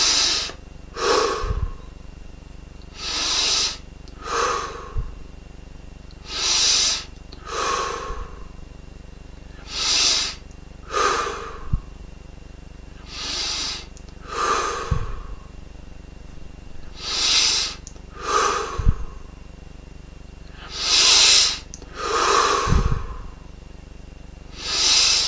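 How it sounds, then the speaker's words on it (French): Deep, slow breathing during a seated meditation, with a regular series of long audible inhales and exhales, each a soft airy hiss, repeating every couple of seconds with occasional low thumps beneath. "On prend nos 20-25 grandes respirations."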